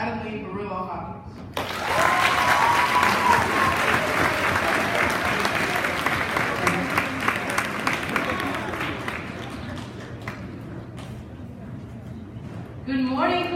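A middle school audience at a career day keynote breaks into sustained applause, a dense wash of many hands clapping that swells and slowly thins, with a voice over a speaker system before and after.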